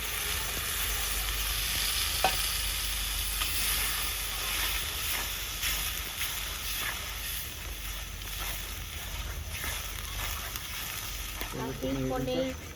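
Tomato paste frying in a pan with red chili powder for an onion- and garlic-free shahi paneer, a continuous close sizzle and hiss with occasional stirring scrapes, a brief clatter near the end.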